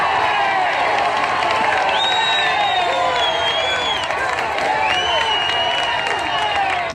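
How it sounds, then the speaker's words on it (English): An excited crowd gathers outside Rocky's house in the film Rocky II, many voices cheering, shouting and whooping together in a loud, continuous, dense roar. "And there's a crowd outside waiting for him."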